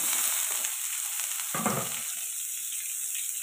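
Chopped onions and curry leaves sauté in hot oil for a mutton curry, giving a steady close hiss and sizzle with a brief scrape of stirring partway through; no voices.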